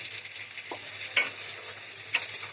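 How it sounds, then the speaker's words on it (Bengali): Pointed gourd pieces fry in hot oil with a little turmeric, sizzling steadily and close up while a utensil stirs them, with a few sharper scrapes and clatters against the pan. "ওই তেলেই আমি পটলটাকেও ভেজে নিচ্ছি"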